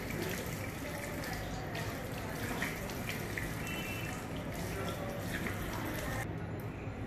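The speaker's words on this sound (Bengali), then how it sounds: "সো আমরা ফ্রেশ ওয়াটার দিয়ে মুখটাকে ওয়াশ করে নিলাম" Fresh running water splashes steadily while a face is rinsed at a sink after cleansing with a foam cleanser, a continuous close wash with faint dripping and no talk.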